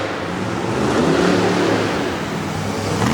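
Black Stallion monster truck engine roaring steadily through an arena qualifying run, a loud, continuous rumble that swells slightly in the middle and holds throughout, with no voices.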